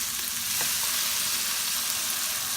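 Mongolian beef stirred in thickening sauce in a pan, a dense continuous sizzle with a soft spatula scrape near the start, close and even, with no voices.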